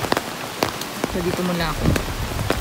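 Rain falls steadily outdoors at a hill resort in Malaysia, a dense patter on surfaces close by, with brief speech and scattered clicks over it.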